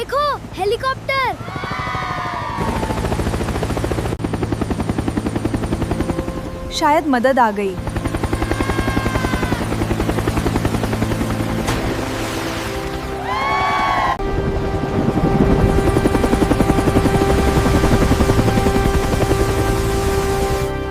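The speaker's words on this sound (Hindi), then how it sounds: "देखो, हेलीकॉप्टर।" Steady rotor chop of a helicopter runs throughout, with short bursts of excited voices over it and a louder stretch toward the end.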